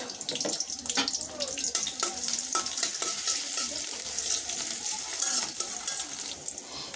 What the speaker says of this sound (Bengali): বসিয়ে দিয়েছি কড়াইতে দিয়ে দিচ্ছি তেল, দিয়ে দিচ্ছি পেঁয়াজ, দিয়ে দিচ্ছি কাঁচামরিচ